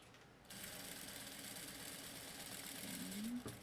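A sewing machine starts up and backstitches a seam on a basic backpack, running in a steady fast buzz after a brief pause, close and clear with no voices.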